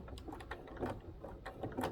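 Sewing machine stitching slowly through several thick layers of faux leather for an iPad bag, giving a steady, close, rhythmic mechanical chatter of needle strokes with no talking.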